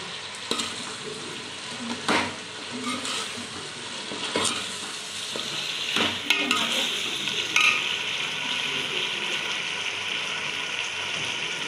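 Potatoes fry in a pan while a spoon stirs them, producing a continuous hissing sizzle with occasional sharp knocks and scrapes of the utensil, close and fairly loud.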